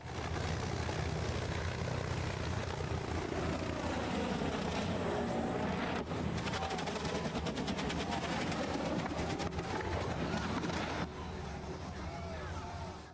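A helicopter spinning out of control just above the ground before crashing, its loud, continuous rotor and engine roar filling the scene, with a rapid chopping pulse building partway through.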